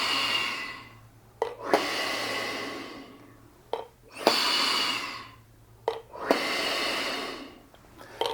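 A bass trombonist takes slow, deep breaths in and out through a small breathing device, air whooshing past the lips in three long, loud cycles, each separated by a brief pause.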